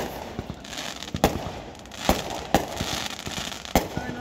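Fireworks set off to celebrate a Mexico football win: a series of sharp, crackling bangs at irregular intervals, fairly distant and moderately loud, with no talk.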